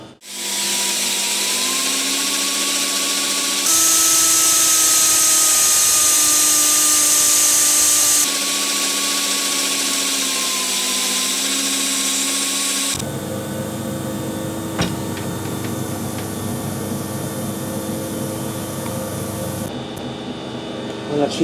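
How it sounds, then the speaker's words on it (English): A metal lathe runs under power feed, a loud steady motor whine with tonal hum that shifts as speed changes, followed by a rougher, busier machining drone with clicks toward the end. "we'll run the lathe faster, and you can put a power feed on it"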